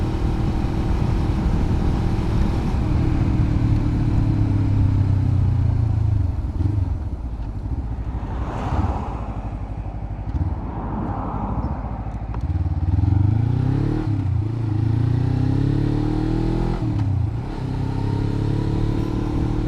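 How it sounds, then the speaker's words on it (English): Riding a Suzuki GW250 Inazuma motorcycle along a busy road near Loch Ness: a loud, constant engine drone and wind rush, with other vehicles sweeping past and engine pitch rising and falling through gear changes. "A lot of busy traffic on this road."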